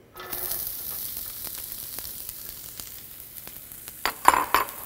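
Onions dropped into hot oil in a pan burst into a steady sizzle, with scattered crackles and a few louder stirring scrapes near the end, close and alone.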